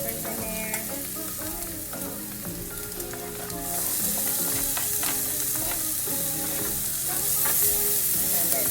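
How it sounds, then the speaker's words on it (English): Onions and peppers sauteing together in a pan, a strong continuous sizzle with frequent stirring scrapes that grows a bit louder partway through. "And let them two saute together"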